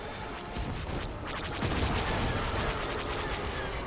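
Enemy blaster fire in LEGO Star Wars: The Skywalker Saga, a dense, continuous rattle of shots and booms that swells louder partway through, with no pause and no talking.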